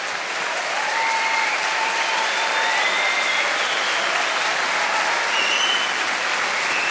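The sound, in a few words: audience applause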